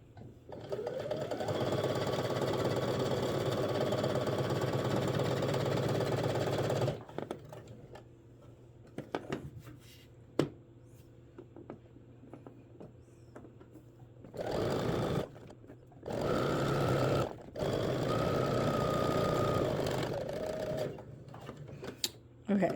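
A sewing machine stitching shirred dress fabric runs in long, close bursts of rapid, even clatter, with gaps of quieter handling and someone talking in between.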